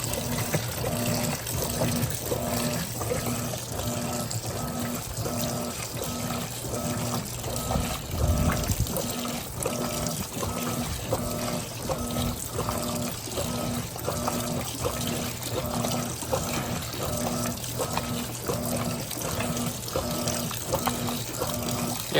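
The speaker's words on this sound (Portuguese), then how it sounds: "E aí ela termina de completar o nível de água." Electrolux Turbo LTP15 15 kg top-loading washing machine filling with water, a steady continuous pour and rush with a faint rhythmic mechanical pulse underneath, moderately loud and close, with no talking.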